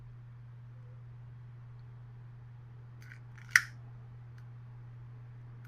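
A single quick snip as the end of a STIHL backpack blower pull rope is cut, faint and close over a steady low electrical hum, with a little light handling noise just before it.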